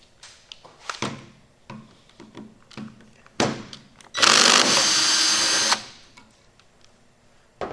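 A power tool spins briefly, a loud whirring burst of about a second and a half, while bolts come off a 2006 Dodge Ram 48RE automatic transmission, with scattered clunks and metal taps before and after.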